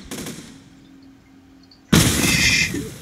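A booming blast opens, fades into a quiet lull, then a second loud burst of gunfire-like cannon fire erupts and rumbles on, in the game Besiege.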